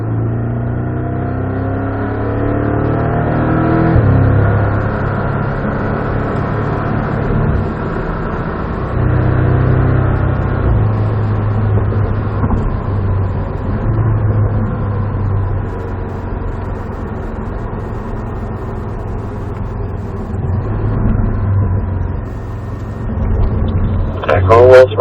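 A race car engine drones and swells on light throttle, a steady mid-pitched rumble rising and easing in waves, with a voice talking over it throughout.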